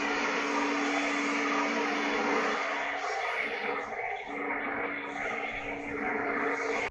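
A Kobalt brushless leaf blower runs continuously outdoors, blowing dust off the ground with a steady, loud airy whine and a constant tonal hum, close and unbroken.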